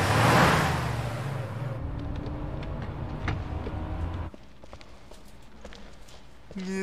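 Hummer engine rumbling steadily in Resident Evil 5, a dense low drone with scattered clanks and footstep-like knocks that drops to a quieter idle partway through.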